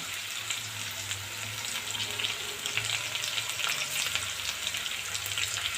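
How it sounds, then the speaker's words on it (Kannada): Onion and curry leaves frying in oil for chicken fry, a steady close hissing sizzle with light stirring scrapes, no voices. "ಈರುಳ್ಳಿ ಬ್ರೌನ್ ಆಗೋವರೆಗೂ ಇದನ್ನು ಫ್ರೈ ಮಾಡ್ತೀನಿ"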